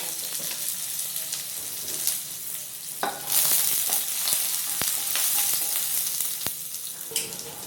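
Shallots and dried red chili frying in hot oil with popped mustard seeds for sambar, a loud continuous sizzle with crackles and a few sharp pops and clicks of stirring.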